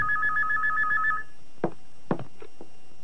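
A telephone rings with a repeated warbling electronic trill in a Filipino action movie scene, then stops and is followed by a few sharp clicks and handling knocks of the receiver being picked up.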